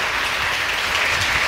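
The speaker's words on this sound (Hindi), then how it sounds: "एक बार तालियों से धन्यवाद कीजिएगा।" An audience clapping to thank a professor at a commemorative discussion and award ceremony, a brief, dense burst of steady applause filling the hall.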